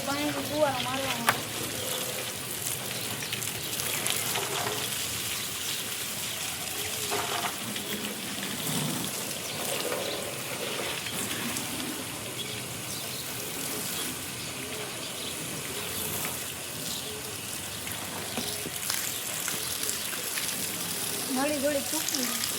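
Water sprayed from a hose to wash a car gives a steady, broad hiss that runs unbroken throughout, with people talking intermittently beneath it.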